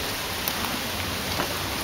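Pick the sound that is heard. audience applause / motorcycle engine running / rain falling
rain falling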